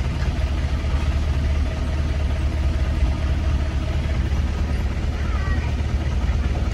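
A car engine idles as the vehicle crawls up a hill at walking pace, giving a steady, close, low rumble that holds unbroken for the whole stretch.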